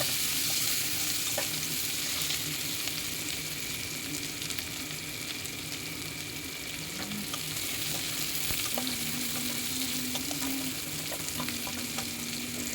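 Chopped onion and green chilli sizzle steadily in a pan on a home kitchen stove, a constant mid-level frying hiss with occasional stirring clicks and scrapes, and no voices.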